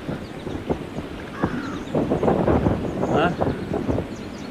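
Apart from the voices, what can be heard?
strong wind blowing, wind noise on microphone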